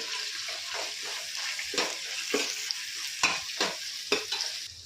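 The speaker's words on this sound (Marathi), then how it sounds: "आपण परतणार आहोत" Onion for veg pulao sizzles and fries in a pan while a spoon stirs it, with a series of scraping, clattering strokes over a steady hiss.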